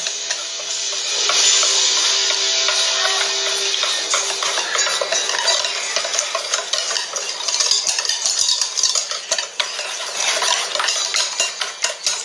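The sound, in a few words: whisking batter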